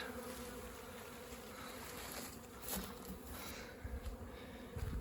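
Honeybees hum steadily during a young bees' orientation flight at an apiary in Rize, a dense close swarm buzz with individual bees passing nearby, and no voices.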